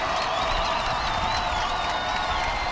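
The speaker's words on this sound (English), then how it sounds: "And so the crowd gets loud." Spectators at a high school football game between Lone Peak and American Fork roar and cheer continuously, a dense crowd din with a thin wavering whistle-like tone riding above it.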